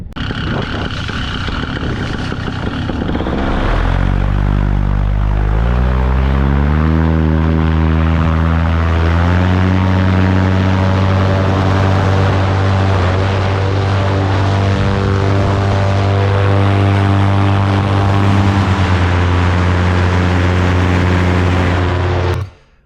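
Paramotor engine and propeller in flight over Brazil, a loud, steady droning buzz that rises in pitch as the throttle opens, then holds at a constant roar until cutting off at the end.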